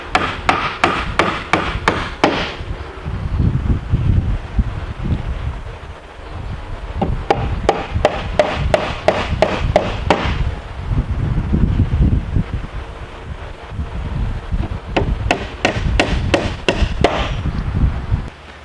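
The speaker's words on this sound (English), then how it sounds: "I do want to go in here and put these finish nails in" Finish nails are hammered into a wooden bench in quick bursts of sharp, ringing taps, three clusters separated by brief pauses, close up with wind rustling outdoors in between.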